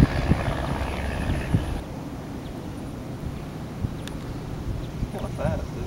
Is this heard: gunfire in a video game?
no